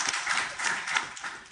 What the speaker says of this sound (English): We can clap if that's appropriate if people are doing it.